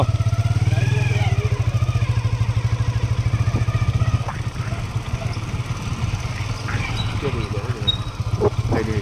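A motorcycle engine runs close by on a rural dirt road, its steady low throb continuing under people talking and a little clatter.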